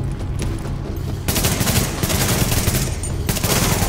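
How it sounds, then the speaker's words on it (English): Dense, rapid gunfire in the video game Tom Clancy's The Division, a loud continuous barrage of automatic shots that intensifies partway through and keeps rattling to the end. "They're shooting at me."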